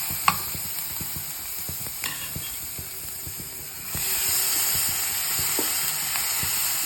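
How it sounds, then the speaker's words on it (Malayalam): Bitter gourd frying in a pan and being stirred, a steady sizzle with repeated scraping and knocking spatula strokes at an uneven rhythm, close and moderately loud, the hiss swelling louder partway through. "പാവയ്ക്ക ഇട്ട് കഴിഞ്ഞിട്ട് ഇച്ചിരി ഒന്ന് ഇളക്കി കൊടുക്കണം"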